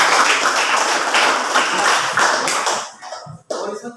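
A classroom of students claps in a loud burst of mixed, uneven hand claps. The applause thins out and stops near the end, followed by a few scattered taps.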